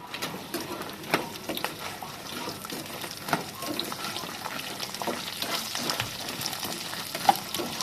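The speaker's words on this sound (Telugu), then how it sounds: "కొంచెం నూనెలో చిన్నొడియాలు వేసుకోవాలన్నమాట" Small sun-dried vadiyalu fritters fry in a shallow layer of hot oil, giving a steady, moderate crackling sizzle with scattered sharp pops and faint stirring clatter, with no voices.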